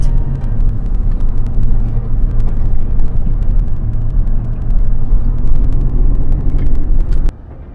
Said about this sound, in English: This is a very quick drive through the streets of Barossa